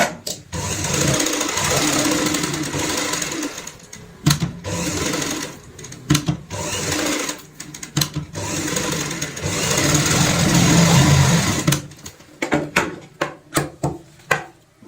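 A sewing machine stitches a fabric bag panel with buckram, running in loud, close, buzzing bursts with brief pauses, then ending in short stop-start jabs.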